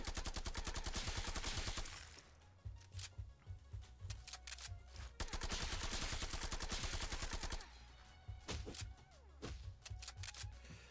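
Rapid bursts of enemy gunfire in the wave-based shooter game Anime Wave Simulator, dense automatic volleys crackling in clusters with brief lulls between them, loud and close throughout.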